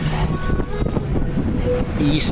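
Wind rushes and buffets close to the microphone aboard a sailboat beating upwind toward a marina, a gusty continuous roar with someone talking over it.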